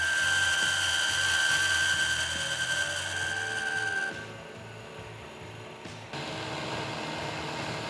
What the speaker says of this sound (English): It's a carbide end mill, and the end is a bit worn, but it's got the flutes long enough that it's gonna make a nice cut there